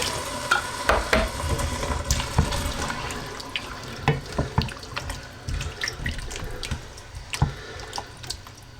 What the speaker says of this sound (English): in goes enough water to just come up to the level of the meat